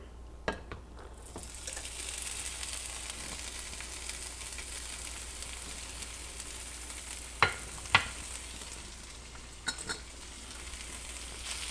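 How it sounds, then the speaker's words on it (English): Drained canned corn fries in oil in a pan on a stovetop, a continuous close sizzle with faint crackle and a few sharp taps of a utensil against the pan. "So I'm adding oil to a pan and I'm going to cook it on the stove."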